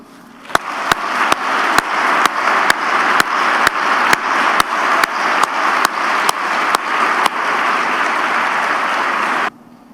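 An audience at an oath-of-office ceremony for a newly elected mayor and councillors-elect claps steadily for about nine seconds, a dense sustained wash of applause punctuated by evenly spaced sharp clicks, then stops abruptly.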